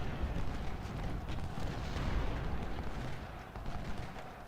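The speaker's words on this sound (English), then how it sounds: "Another volley at point blank range on the flank." A musket volley at point blank range in Ultimate General: Civil War, a Civil War battle game, rolls out as dense, rumbling gunfire, loud and sustained, with overlapping booming shots swelling and fading.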